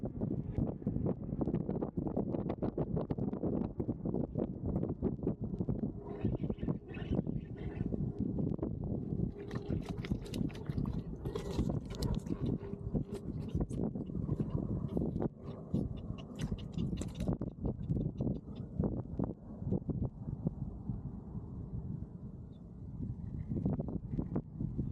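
Steady wind blustering over a fishing boat at sea in wind-against-tide conditions, a continuous loud rumble with gusty buffeting on the microphone and occasional brighter rattles and splashes, no voices.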